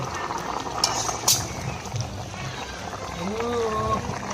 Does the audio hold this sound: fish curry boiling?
yes